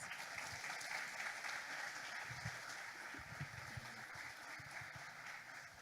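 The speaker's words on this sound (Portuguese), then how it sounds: "Vamos aplaudir o Senhor mais uma vez." A church congregation at a baptism service claps together, a broad continuous wash of applause heard from within the room, with low rumbling thumps and faint murmurs mixed underneath.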